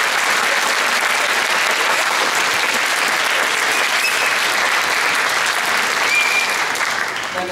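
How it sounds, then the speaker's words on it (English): Loud, steady applause from an audience at a high school jazz concert, a dense roar of clapping hands filling the whole stretch without a break. "So give a round of applause for me."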